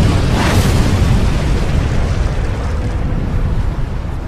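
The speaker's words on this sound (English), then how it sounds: "Before slipping beneath the surface, her powder magazine detonates." The powder magazine of the battleship Yamato detonates in a deep, sustained rumbling explosion, loud and continuous with a rolling roar throughout and no speech.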